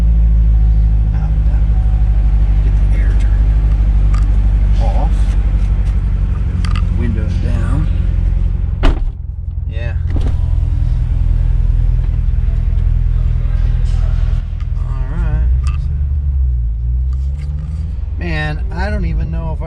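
A Corvette engine rumbles loudly and steadily near the microphone, with a couple of brief revs and dips, while people talk over it.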